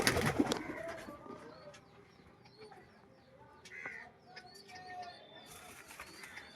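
Giribaz and local pigeons cooing at a farm, with soft repeated coos and faint calls under light rustling and a brief louder handling noise at the start.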